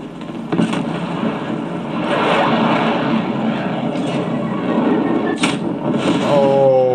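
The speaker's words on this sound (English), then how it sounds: "TACOM, establish spy plane overflight" Spy plane flying overhead in the video game Call of Duty Cold War, a broad sustained engine roar at moderate loudness, with scattered sharp game effects on top and no clear talk.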